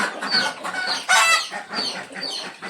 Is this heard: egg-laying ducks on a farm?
yes